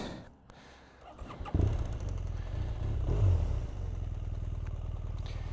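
A 2016 BMW R1200R motorcycle engine fires up and settles into a steady, fairly quiet idle with a low, even rumble and light mechanical clatter.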